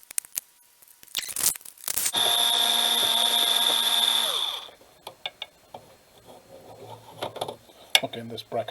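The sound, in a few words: removing screws from Teac reel to reel deck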